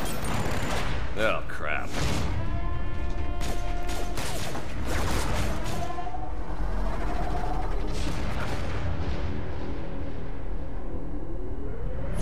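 Gunfire in the shooter video game Borderlands: The Pre-Sequel, a dense run of sharp repeated shots and heavy booms layered with game effects, as someone talks briefly over the loud barrage.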